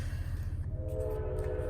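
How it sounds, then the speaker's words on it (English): Train passing near a local gaming store, a steady low rumble with a sustained tonal horn or whistle emerging midway, fairly close and continuous, no speech. "and I got a train coming by."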